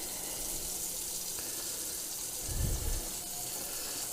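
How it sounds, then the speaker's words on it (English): An RV faucet runs water flushed with pink antifreeze from the freshwater system, a steady hissing flow with a brief gush near the end, fairly faint and heard alone. "We'll run the faucet."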